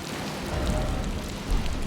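Steady rainfall hisses on a surface in Elden Ring, a continuous, moderately loud wash of drops with no talking.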